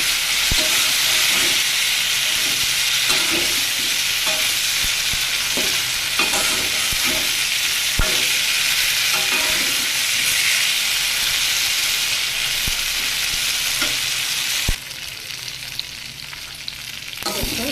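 Elephant foot yam and prawns fry in oil, a loud, dense, continuous sizzle with faint stirring clicks throughout, easing to a quieter crackle near the end.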